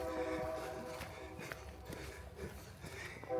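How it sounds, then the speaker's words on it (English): A train horn sounds steady tones from a distance, layered over a low rumbling of rail noise. "I'm sure you guys are hearing the train horn"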